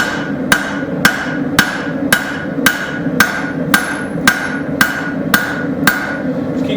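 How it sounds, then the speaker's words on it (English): A straight peen hammer strikes a railroad spike blade on an anvil in a steady rhythm, about a dozen sharp ringing blows spaced evenly and close. "I'm going to use my straight peen. Just going to thin it down as it elongates it."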